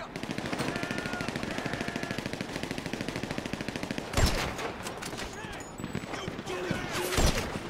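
Rapid machine-gun bursts and gunfire crackle through a GTA V bank heist shootout against a police sniper team on a rooftop, a steady rattling stream broken by louder sharp shots, with voices talking over the game.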